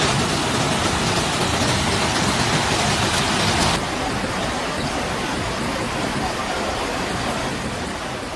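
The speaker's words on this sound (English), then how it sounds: "Light rain persisted in some zones" Rain falls steadily during record flooding in Catalonia's Terres de l'Ebre, a dense continuous hiss that stays loud and even throughout, easing only slightly partway through, with no voices.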